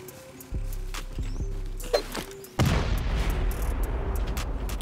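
Two C4 charges detonate on a gate during a bunker raid in a survival video game, sounding as a loud, close boom that rolls into sustained rumbling debris noise, after a few heavy low thuds.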